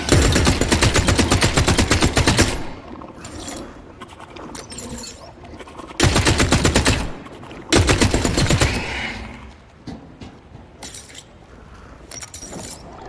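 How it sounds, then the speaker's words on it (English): Bursts of rapid gunfire from an AI enemy in the video game The Cycle Frontier, loud volleys at the start and around the middle with quieter shots and rattles in between. "That Jeff is shooting at something"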